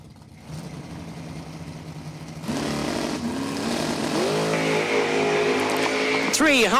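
Drag racing door cars, a Firebird and a Chevy II, idle and then rev up at the track, with engine tones rising and climbing toward the end under crowd and ambient noise.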